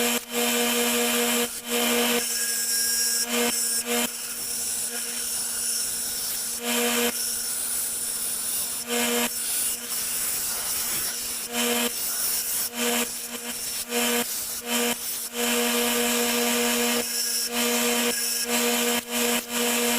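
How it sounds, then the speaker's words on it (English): A power tool grinds steadily against a hidden blade being shaped, giving a loud continuous rasping whine broken by brief pauses as the tool lifts off the metal. "we're going to cut or grind this thing down to the shape it needs to be in"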